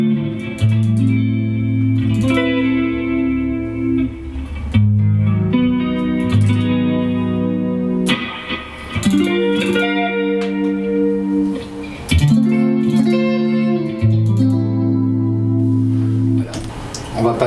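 A clean electric guitar through the AmpKit amp simulator on iPhone or iPad, with added reverb and delay, plays chords and arpeggiated notes in repeating phrases with lingering echoes.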